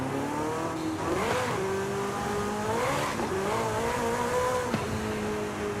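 A high-revving car in Forza Horizon 5, not sounding like a traditional V8, screams continuously with rising and falling engine pitch and tire squeal as it accelerates hard, loud and steady throughout.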